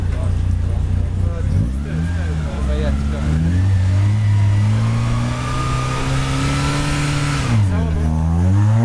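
Citroen Saxo rally car in the RC5 class at the start of the 2014 Rally Bulgaria Sliven, its engine held at steady high revs with a rising pitch, then dropping and climbing again, loud and close, with commentary voiced over it.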